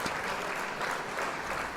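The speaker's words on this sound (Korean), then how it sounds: "샤리님에게 박수 한번" Steady applause from a group, a dense wash of clapping that holds at an even level throughout.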